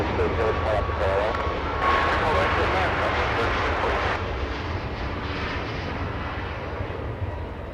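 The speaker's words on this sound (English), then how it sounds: "That's the 777. Philippine Airlines flying back to Manila." A Philippine Airlines Boeing 777-300ER jet airliner rumbles at Los Angeles International Airport, its broad engine roar holding steady and easing slightly, while a person talks over it.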